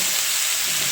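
Lote fish stems and sesame sizzle as they are stirred in a frying pan for a Bengali chorchori, a close, continuous hiss with no voices.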